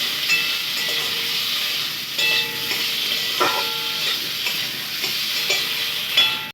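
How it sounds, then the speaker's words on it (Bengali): Potatoes frying in a wok, a steady bright sizzle and hiss that holds throughout, broken by a few light scrapes and clinks of stirring. "আলুকে লাল লাল করে ভেজে নিতে হবে।"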